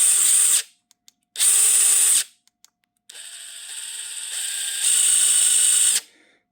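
A Dewalt 20V MAX Atomic cordless 3/8-inch impact wrench with hog ring anvil runs free in close, loud bursts: two short whirring pulls, then a longer run that steps up in speed before stopping.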